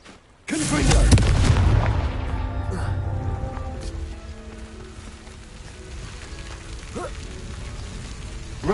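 A Confringo blasting spell in the Hogwarts Legacy video game sets off a single loud, heavy boom. A long rumbling tail with faint debris crackle slowly fades over several seconds.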